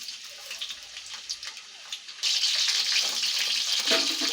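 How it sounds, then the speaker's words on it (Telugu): Dried prawns dropped into hot oil in a pan, a soft crackle at first that jumps into a loud, steady sizzle partway through and keeps hissing close up. "నూనె అయితే కాగింది కదా ఇందులో రొయ్యలు వేపుకుందామండి"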